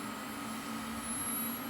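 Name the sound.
loud computer fans of a custom Intel Pentium 4 PC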